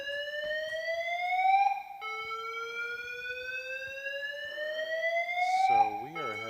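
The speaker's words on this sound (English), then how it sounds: "we are having a little fire alarm go off inside the building" A building fire alarm sounds indoors during a test, a whooping electronic tone sweeping upward in repeated cycles, moderately loud, with a brief burst of other noise near the end.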